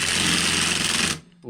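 A power tool whirs loudly and steadily while spinning nuts off the engine casing of a Royal Alloy GP125 Euro 5 scooter, then cuts off abruptly near the end with a short softer buzz.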